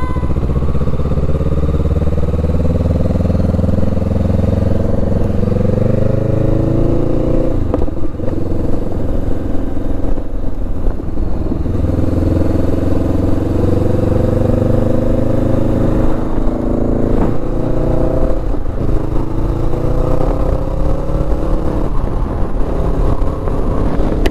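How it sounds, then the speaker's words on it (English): A motorcycle fitted with a new exhaust runs steadily and loudly throughout, its exhaust rumbling as the revs rise and fall while riding, with no talking. "To give the bike a little test ride when it goes fast with this new exhaust"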